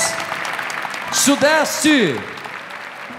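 A congregation applauds to welcome visitors at a Catholic gathering. Broad clapping runs underneath while someone speaks loudly over it into a microphone.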